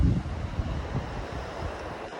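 The Ganga rushes in fast flow beside the Gaumukh trek trail, a steady broad roar of turbulent water mixed with wind buffeting the microphone.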